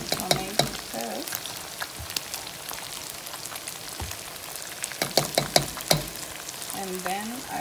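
Tomato sauce sizzles and crackles as it hits a hot pan while a lasagne is being made, with stirring scrapes and some clinks of utensils, close and fairly loud.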